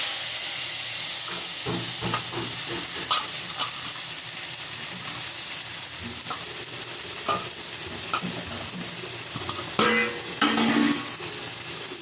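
Chopped onion and tomato frying for Maggi noodles, a steady close sizzle and hiss with soft stirring scrapes and a sharper clatter near the end, no voices.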